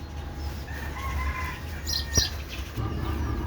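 Chickens cluck faintly in the evening before being let out, with scattered soft calls and a short burst of flapping or clatter over a steady low background hum.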